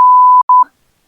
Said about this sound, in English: Just go beep.